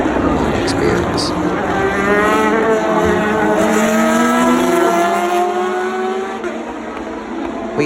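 Race cars roar past at the 2019 Le Mans race, their loud engines climbing and falling in pitch as they pass close by and overlap through several seconds of continuous noise.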